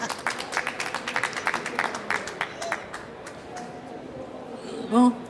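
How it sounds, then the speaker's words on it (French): A small audience claps for two speakers, brisk close-up clapping that fades after a couple of seconds into quieter room noise, with voices talking faintly underneath. "on va applaudir, nous"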